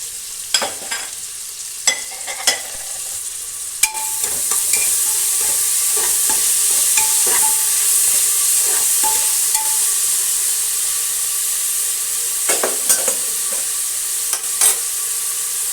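Sliced onions and cut green chilies with salt fry in a pan, a steady loud sizzle running throughout while a spatula scrapes and clinks against the pan in scattered strokes, close up with no talking.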